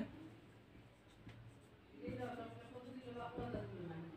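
A pen scratches out set notation on paper in quiet, short strokes, faint and close, while a voice talks over the later part.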